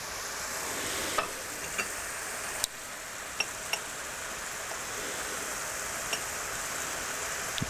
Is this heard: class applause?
no